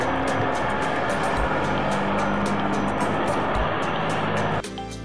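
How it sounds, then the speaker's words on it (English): A truck loaded with logs crosses a narrow bridge over a fairly swift river, its engine giving a loud, steady rumbling roar that drops off sharply just before the end. "However, the most frightening part is the truck crossing a narrow bridge."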